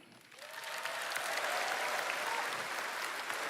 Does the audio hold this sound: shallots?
no